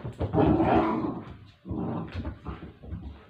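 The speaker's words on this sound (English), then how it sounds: "hear the dogs barking too." Dogs growl and bark in close, rough bursts, with whining between the louder outbursts.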